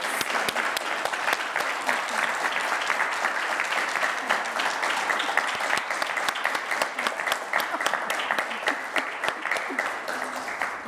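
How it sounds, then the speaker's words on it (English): An audience gives a standing ovation at a talk show, with sustained, sharp clapping from a crowd that continues evenly for the whole stretch. "Let's give her a round of applause."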